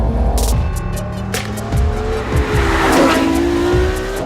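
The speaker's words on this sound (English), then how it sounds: "This is a 950 horsepower Ferrari" A 950-horsepower 2014 Ferrari LaFerrari supercar drives on a road, its engine note rising and falling with gear changes and tire noise, loud and close, with no talk.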